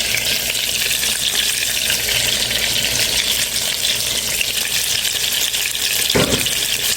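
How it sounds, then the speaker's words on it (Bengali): Katla fish pieces frying in hot oil, browned, give a steady, loud, dense sizzle with crackling throughout, and a brief clatter near the end, with no voices. "মাছ ভাজাটা হয়ে গেছে, একটু ব্রাউন কালার করে নিয়েছি। এভাবে ভাজবেন"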